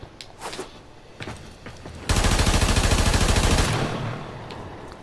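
Gunfire in the video game Warframe starts with a few scattered shots, then becomes a sustained rapid automatic burst lasting over a second, loud and close, before fading into a softer tail.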